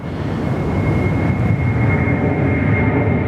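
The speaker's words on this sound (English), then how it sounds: "Virgin 737 700 just getting away there from runway 21" A Virgin Boeing 737-700 takes off from runway 21 with a loud, sustained jet roar that holds steady and near throughout, a faint high whine riding on top.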